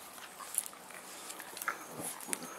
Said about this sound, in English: So many dog fights, I can't keep up with them all.